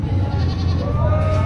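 A goat bleats at a busy livestock market where goats, cattle, carabao and horses are sold, its voice close and sustained over a steady crowd murmur.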